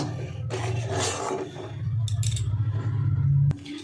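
A spoon stirring and scraping oat dough in a pan as it dries over heat, with soft continuous rubbing and scraping strokes, close and fairly quiet, ending on a sharp knock, no talking.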